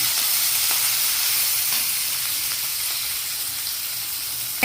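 Onions and fennel seeds frying in oil in a home kitchen for green beans sambar, a steady close hiss and sizzle running throughout without talk.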